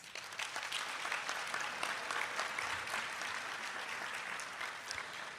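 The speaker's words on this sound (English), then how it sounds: "Please give them a round of applause." A dense round of audience applause at a school district summer program closing ceremony, broad and even, fairly distant and soft, continuing unbroken from start to finish with no talk.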